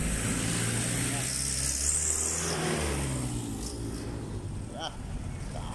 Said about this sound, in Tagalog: Dami lang sasakyan